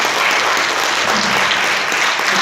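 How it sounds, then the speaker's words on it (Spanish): A church congregation applauds, a dense, steady wash of clapping filling the room throughout, with no voices standing out. "Vamos a dar un fuerte aplauso al Señor."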